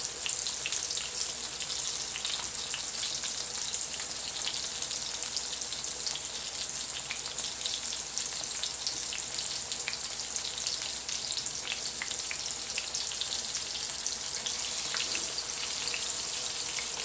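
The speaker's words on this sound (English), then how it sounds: "the burgers are cooking now" Beef burgers frying in a pan give a steady, dense sizzle with fine crackling and spitting, constant and fairly loud throughout, with no talking.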